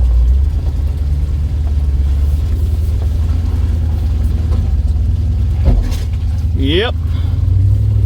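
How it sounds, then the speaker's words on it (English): Toyota Tacoma TRD Off-Road climbing a rough backcountry trail, its engine a steady loud low rumble throughout, with a person briefly speaking over it. "right now the Tacoma is having no problem going up this"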